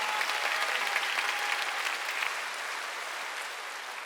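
A church congregation applauds loudly and steadily at a Korean sermon, producing a dense, even wash of many hands clapping that fades slightly toward the end.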